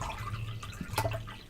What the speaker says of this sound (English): Sorry, I pour and drink some water.